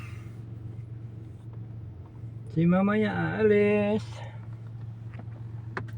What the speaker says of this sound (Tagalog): Pinainit ko yung makina.